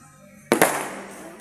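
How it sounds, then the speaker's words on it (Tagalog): New Year fireworks exploding outdoors, two sharp close bangs in quick succession followed by a crackling, fading tail and a faint later pop. "Ayun ang fireworks!"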